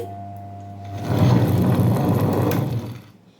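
A mixer grinder runs on ragi dosa batter with salt added, a steady loud whirring grind that builds after a quiet hum, holds for about two seconds, then winds down.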